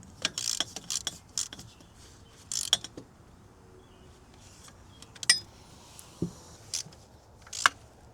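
Bolts are tightened into PCV fittings on a Duramax diesel engine, heard as short, close ratcheting clicks and metallic ticks in scattered bursts, separated by quiet pauses.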